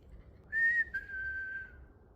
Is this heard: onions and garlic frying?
no